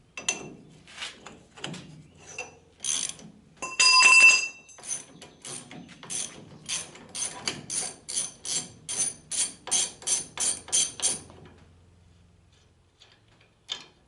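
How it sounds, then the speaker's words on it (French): A 26 mm wrench works a seized nut on the front axle of a Citroën Traction: scattered metallic clicks and knocks, then a quick regular series of about a dozen ratcheting ticks before fading to quiet. "ma clé de 26, voilà. Je vais pouvoir débloquer l'écrou."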